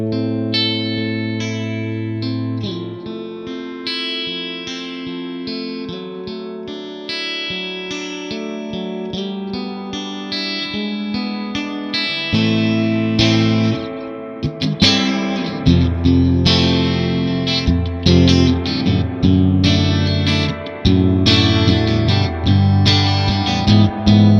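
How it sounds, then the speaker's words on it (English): Guitar played through the tube-driven three-spring reverb of a MESA/Boogie Triple Crown TC-50 amp, with clean chords and notes washing into deep, lush reverb tails over about twenty-five seconds and no talking. "The tube-driven 3-spring reverb is deep and lush in the Triple Crown."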